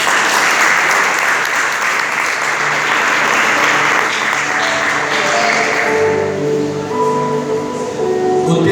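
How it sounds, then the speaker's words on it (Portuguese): A church congregation applauds loudly and steadily, a dense wash of clapping that thins and dies away toward the end as a few lingering tones and murmurs remain. "desocupa as tuas mãos e aplauda ao Rei da Glória"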